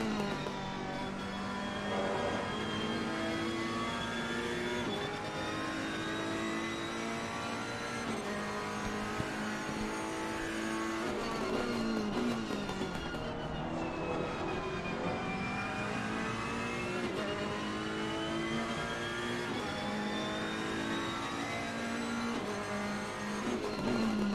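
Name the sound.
race cars in a sim racing video game, Ferrari and Aston Martin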